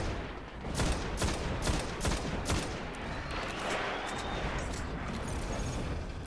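Gunfire from the video game Destiny during a boss fight: rapid bursts of sharp shots crack in quick succession early on, then settle into a denser, sustained rattle of fire with no talk.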